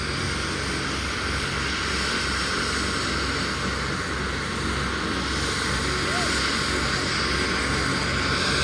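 A helicopter with its pilot aboard gives off a loud, unbroken engine and rotor drone that fills the whole stretch, with voices faint beneath it.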